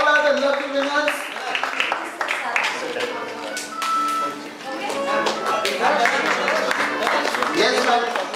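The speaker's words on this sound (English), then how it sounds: "Come on, keep on clapping," Audience at a KidZania prize event applauds children who won a Camlin 'Hichki' contest: steady scattered clapping from a crowd continues throughout, mixed with loud chatter and voices talking over it.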